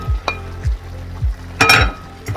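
Onions caramelizing in a pan give a moderate, close sizzle, broken by several short scraping stir strokes and one louder burst of frying noise, with no voices.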